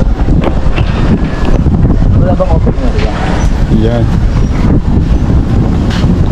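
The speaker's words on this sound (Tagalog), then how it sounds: "Lakas ng hangin" Strong wind buffets the microphone in a loud, constant rumble throughout, with people talking underneath it.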